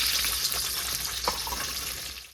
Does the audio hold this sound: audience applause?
no